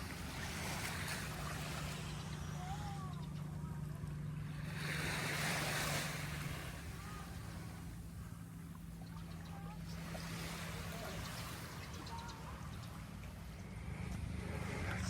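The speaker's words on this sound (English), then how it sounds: "The waves crashing." Ocean waves wash onto a beach in steady surges, a broad continuous roar of surf with periodic swells and some wind noise, heard near and loud with no voices.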